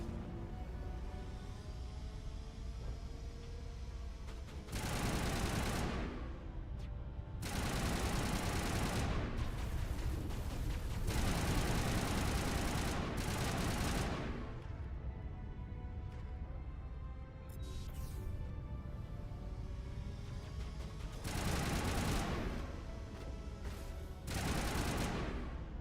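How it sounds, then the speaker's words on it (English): Bursts of automatic machine gun fire from the video game Mass Effect 1, several sustained volleys of several seconds each separated by short pauses, loud and close over a steady background hum. "fear my mighty machine gun"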